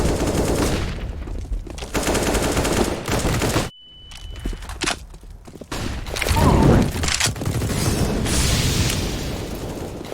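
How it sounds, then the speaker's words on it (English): Rapid gunfire and booming grenade and flashbang blasts fill a CS:GO match, dense and loud, with a sudden near-silent gap broken by a thin ringing tone before the shooting resumes. "Throwing a flashbang."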